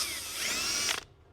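A power drill boring into a carbon fiber door on a Nissan 350z gives a loud, close, high whining grind for about a second, then cuts off sharply into quiet.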